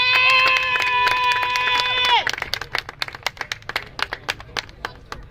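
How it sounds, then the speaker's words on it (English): At a high school flag football game, parents in the stands clap in scattered, uneven bursts after a long, loud sustained tone fades out. "Crowd getting loud."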